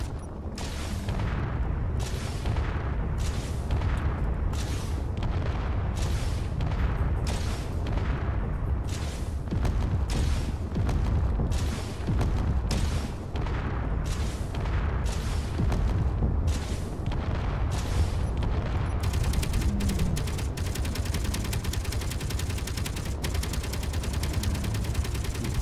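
A fighter ship in Space Engineers makes a strafing run, loud rapid bursts of gunfire repeating in a steady pulsing rhythm over a constant low rumble, ending in a denser continuous stream of shots.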